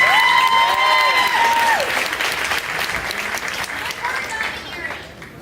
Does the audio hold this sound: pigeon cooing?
no